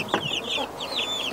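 Rhode Island Red chicks peep and cluck softly up close in a short burst of high, chirping calls.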